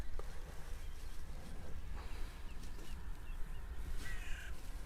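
Crows caw several times near the coast against a steady rumble of wind or surf, with the calls fairly distant and scattered across a few seconds.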